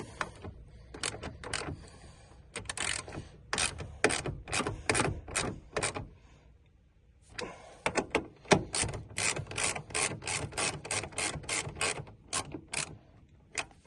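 A ratchet wrench clicks in rapid bursts while bolts are tightened on the door checker of a third-generation Honda Odyssey, with close, dense ratcheting in two runs separated by a brief pause and no talking.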